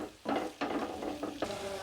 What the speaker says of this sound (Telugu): ఒకసారి మొత్తం కలుపుకొని మూత పెట్టేసుకుందాం